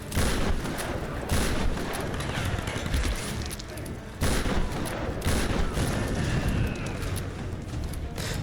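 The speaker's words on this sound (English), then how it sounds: "Where you're just shooting people with nice explosion sounds." Gunfire and explosions from the video game Tomb Raider (2013) form a dense, loud, nearly unbroken barrage of cracking shots and blasts, with a brief dip midway.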